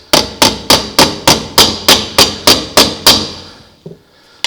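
Sharp, evenly spaced hammer blows on sheet metal during rust repair on a door, about a dozen ringing strikes close up in a steady rhythm, then a pause and two lighter taps.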